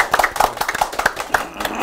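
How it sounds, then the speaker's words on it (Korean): A small audience at a career mentoring session claps for a mentor in a brief, close burst of uneven handclaps lasting under two seconds. "이상선 멘토님께 박수 드리겠습니다"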